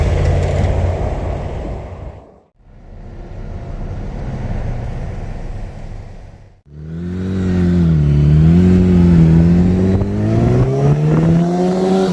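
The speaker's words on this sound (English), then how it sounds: "and of course, good old Atlanta traffic." A car engine rises steadily in city traffic in Atlanta, with loud close road noise broken by two brief dips before the engine climbs again in rising and falling revs.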